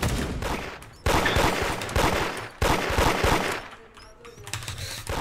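Shotgun blasts and rapid gunfire in the Roblox game Da Hood come in several loud dense bursts over a couple of seconds, then ease into lighter scattered shots.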